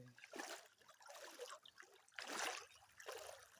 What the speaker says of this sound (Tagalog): ang ulan kagabi at ngayon po ay meron pong sapa